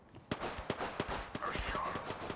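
Apex Legends gunfire cracks out in a quick series of sharp shots, roughly evenly spaced over a couple of seconds, fairly close and punchy against a busy game background.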